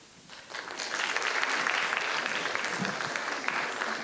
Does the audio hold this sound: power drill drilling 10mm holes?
no